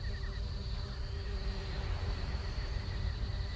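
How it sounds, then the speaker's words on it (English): Bees buzz around a nest in The Book of Unwritten Tales video game, a steady faint insect drone with a thin high whine running alone under soft ambient background. "There are bees buzzing around all over the place and they're fighting the fire fairies for the nectar."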